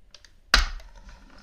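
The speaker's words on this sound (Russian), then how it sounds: "И на них потом поставить вот так клавиатуру." A Mitsumi KFK-EA4SA computer keyboard is set down onto its raised stand feet with a single sharp clack and low thud midway through, followed by a few faint rattles in an otherwise quiet room.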